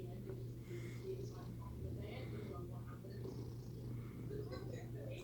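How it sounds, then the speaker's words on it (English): Soft, steady purring from a cat hums low and continuous beneath quiet, close talking. "I don't know if you can hear her purring"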